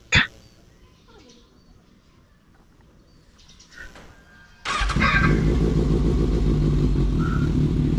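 A Kawasaki Ninja ZX-6R sports bike fitted with an Austin Racing exhaust starts and settles into a loud, steady idle close by, following a short burst and a quiet stretch with faint birdsong in the background.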